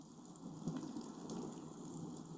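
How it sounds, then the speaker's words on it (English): A rain sound effect on a 1982 children's book on tape, faint and steady, a soft hiss of falling rain with a low rumble and no voice. "it rains."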